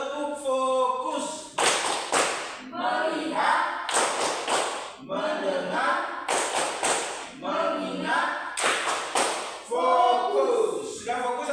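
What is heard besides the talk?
class doing the tepuk fokus clapping routine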